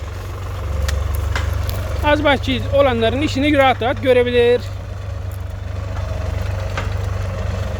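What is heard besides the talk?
New Holland T480 S tractor engine idling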